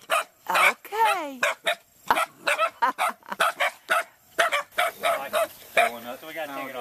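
Puppies bark and yip in a rapid string of sharp, high calls close by, with a few softer whimpering notes and a brief spoken word among them.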